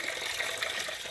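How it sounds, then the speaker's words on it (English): A mixture of oil and water drains from the pan of a 1955 International Harvester engine in a steady, hissing pour that runs without a break. "you've seen the oil water mixture coming out of the pan"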